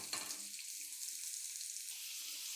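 Thinly sliced onions frying in hot oil with fennel seeds for an onion kurma, giving a steady, faint hissing sizzle that continues without pause, close up, with no talking.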